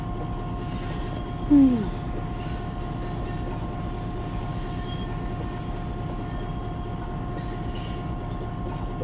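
A loaded coal train about a mile and a half long on the Lakeland & Black Valley line rolls steadily past with a continuous low rumble, a brief louder squeal near the start, and steady tonal hum throughout.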